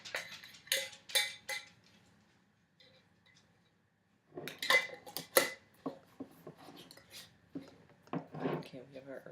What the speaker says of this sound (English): we have our herbs in our jars. Agitating them.